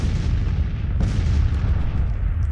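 Rumbling artillery fire from a Civil War battle in the Grand Tactician strategy game, a steady low roar of cannon booms with one sharper blast about a second in, loud and continuous throughout.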